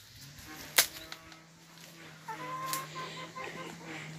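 A rooster on a smallholding agroforestry farm crows and clucks, with one sharp close call followed by softer clucks and a drawn-out crow in a quiet rural setting.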